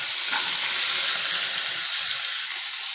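Black chickpeas tipped into hot mustard oil with cumin and asafoetida, giving a loud, close, continuous hissing sizzle that runs the whole time with no talk.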